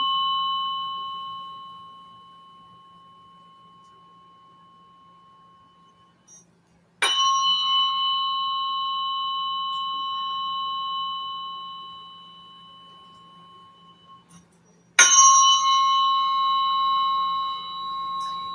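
Tuning fork tones ring out in a biofield tuning session, each pure tone struck sharply then sustained and slowly fading; three strikes in turn, the later two brighter and louder, alone in a quiet room.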